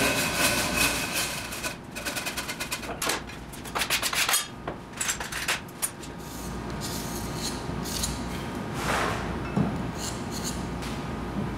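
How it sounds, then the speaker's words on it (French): A small metal plate scrapes small imperfections from a ceramic calibration mould, giving close, continuous rasping and rubbing strokes with brief louder scrapes and no voices. "J'utilise une petite plaque de métal pour revenir enlever des petites imperfections qui s'est faites dans mon moule initial"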